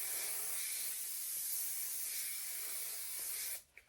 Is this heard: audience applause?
no